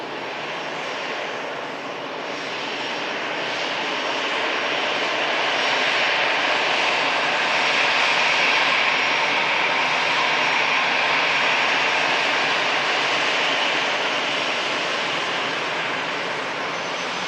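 An EasyJet airliner's jet engines roar at an airport during plane spotting, a steady broad rush that swells gradually in the middle and eases slightly toward the end, with no voices.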